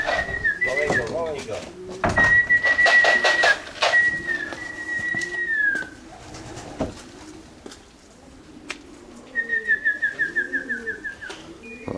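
Pigeons at a loft in September, as young birds fly home, with soft low cooing under whistled calls and people talking, while outdoor ambience stays steady and fairly close.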